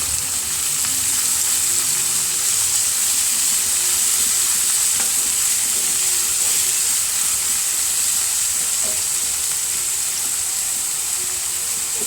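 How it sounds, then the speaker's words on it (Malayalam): Upma sizzles steadily in a hot pan while being stirred, a close, even frying hiss with faint scraping throughout and no talk. "നമുക്ക് നന്നായിട്ടൊന്ന് ഇളക്കി കൊടുക്കാം"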